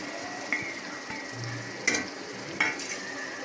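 Masala spices (turmeric, garam masala) are stirred into sizzling tomato and oil in a pan for chicken biryani. A low steady sizzle runs throughout, broken by three or four sharp scraping clicks of a spoon against the pan.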